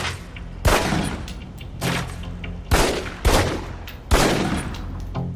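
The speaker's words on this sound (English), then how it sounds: "Equip the pistol, then aim down range and take some shots at the target." Pistol fired at a target on a shooting range in the video game Alpha Protocol: five loud, sharp gunshots, spaced irregularly about a second apart, each with a short booming tail, and no voices.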